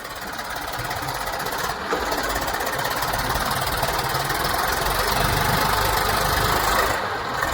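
An Eicher tractor's diesel engine chugs with a steady, knocking rumble, loud and close, growing slightly louder as it draws near.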